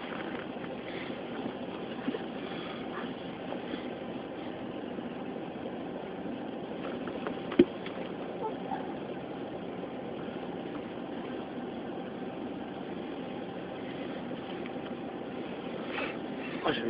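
A steady, low Audi RS2 engine idle rumbles continuously at a race circuit, with a few brief clicks and knocks rising above the drone.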